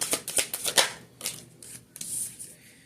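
Tarot cards are shuffled by hand in a few quick, crisp riffling bursts followed by softer shuffling, close by and quiet, with no talking.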